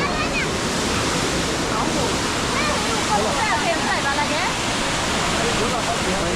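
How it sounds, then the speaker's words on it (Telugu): Elephant Falls waterfall in Shillong, Meghalaya, a loud unbroken rush of falling water close by, steady and dense, with faint chirping birds threaded through. "ఫైనల్గా మనం థర్డ్ వాటర్ ఫాల్ కూడా చూస్తున్నాం."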